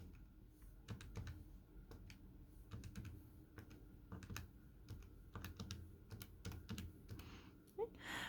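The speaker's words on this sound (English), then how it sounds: "So I'm just going to keep typing in the values in my data set." Calculator keys pressed in quick, irregular clicks while data values are entered, faint and close, with soft button taps clustering in bursts over a quiet room.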